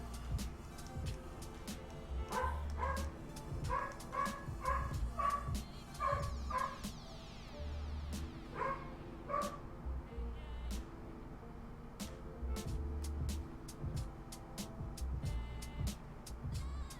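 Dogs bark in rhythmic clusters, sometimes loud and insistent, over a low background hum, with pauses between the bursts and a few sharp yips near the end.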